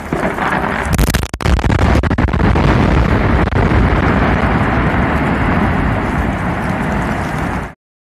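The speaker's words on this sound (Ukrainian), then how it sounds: "Припущення, що вибух трапився на кар'єрі, підтвердило ось це відео" A sharp quarry blast with crackling bursts is followed by a long, dense roaring rumble that sustains loudly before cutting off.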